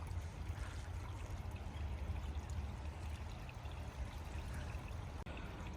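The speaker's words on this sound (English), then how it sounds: "because more water is flowing up here." A forest stream with a strong flow of water runs steadily and fairly loud, with a continuous rushing, gurgling wash and no talk over it.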